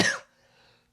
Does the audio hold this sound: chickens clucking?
no